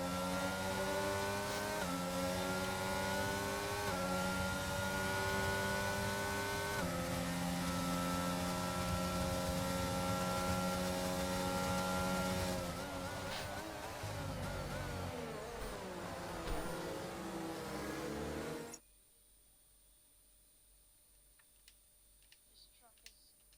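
Race cars in a racing video game roll behind the safety car at the China round, their engines humming loudly in stepped, rising pitches before the engine noise suddenly cuts out, leaving near silence.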